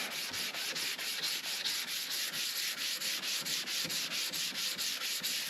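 Sanding a cast iron planer table casting, cutting away metal and old scratches: a steady, continuous abrasive rasp that holds at an even, fairly loud level throughout, close up and with no talking.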